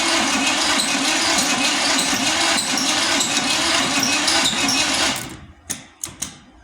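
A 1973 Blazer engine on a weak battery runs loud and steady up close, then abruptly cuts out, leaving a few sharp clicks in the sudden quiet.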